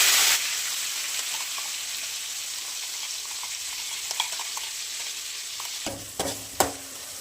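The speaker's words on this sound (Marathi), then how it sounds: "आता फोडणीला आपण लसणाची फोडणी देतोय नाही का" Garlic tempering sizzles steadily in hot oil with a constant frying hiss, and a few scraping clinks come near the end as a spoon stirs the pan.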